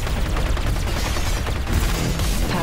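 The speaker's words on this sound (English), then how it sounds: "And now we actually can see awesome explosion." Explosions and rapid gunfire in the video game Matterfall during a boss fight, a dense, loud, continuous barrage of blasts and booms with heavy low rumble.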